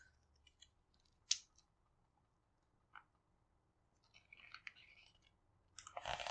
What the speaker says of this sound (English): I want to get my scissors out and start actually, like, cutting the sticker sheets